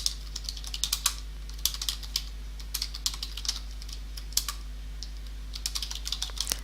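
Computer keyboard typing while filling in an online guarantor reference form, a quick irregular clatter of keystrokes in short runs, close up over a steady low electrical hum, no voices.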